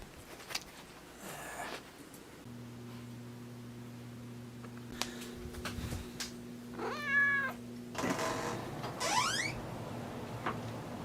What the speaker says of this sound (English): He's got this black cat